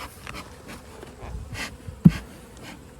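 Honeybees in an opened hive during a fall inspection give a faint, steady, diffuse buzz, with a single soft thump near the middle.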